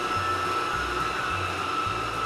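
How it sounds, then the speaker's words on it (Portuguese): An electric stand mixer beats panettone dough, its motor whirring in a steady high hum while a low rhythmic thump pulses about every half second as the dough turns in the bowl. "E no caso de estar batendo com essa batedeira"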